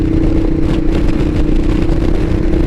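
A Ducati Diavel motorcycle engine in sport mode runs loud and close, a steady, rough throbbing roar that holds for the whole stretch with no clear drop.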